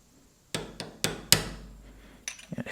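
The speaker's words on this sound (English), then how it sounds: "We're going to grab a small punch and we're just going to flatten the top of it to seat it." Sharp hammer strikes on a small punch flattening a part of a Walbro WT series carburetor, about four close metallic taps in quick succession, then a few lighter knocks.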